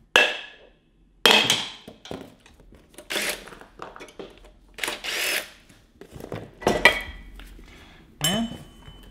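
Heavy metal parts from a Predator 420cc engine build, including a factory cast iron flywheel, clank and knock on a hard surface in scattered, sharp bursts with pauses between; close and fairly loud, no talking.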